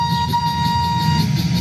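Thomas the train sounds a long, steady whistle in a Roblox video game, a sustained tone held close and loud over a low background hum.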